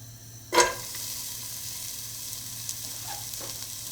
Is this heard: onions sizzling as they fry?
yes